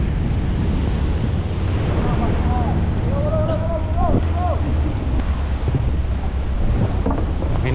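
Strong wind gusts at the Pasir Jambak fishing village in Padang roar as a heavy, rumbling buffet against the microphone, with faint voices briefly audible underneath.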